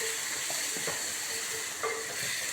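Food sautéing in a pan gives a steady, dense sizzle throughout, with a few faint stirring scrapes underneath.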